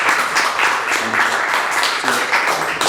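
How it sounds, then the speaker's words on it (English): An audience at a small community speaker event applauds the speaker with steady, moderately loud clapping that continues throughout, with some faint voices mixed in. "Can we give a round of applause to Ben, please?"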